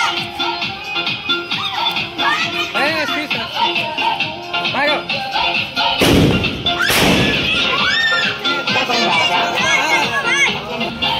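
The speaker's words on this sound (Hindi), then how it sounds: "नया आविष्कार गुड्डू भैया किए हैं, ऐसा कुछ बम है।" Diwali firecracker bomb bursting outdoors amid a festive crowd, two loud broadband blasts about a second apart cutting through steady chatter, children shouting and people talking.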